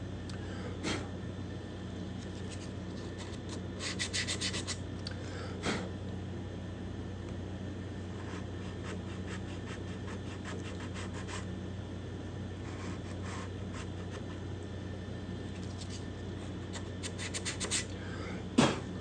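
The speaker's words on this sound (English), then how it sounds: "I will put the block on the sandpaper and" A sanding block rubs on sandpaper while shaping a guitar binding channel, a faint steady scratchy rasp with occasional sharper scraping strokes near the microphone, no talking.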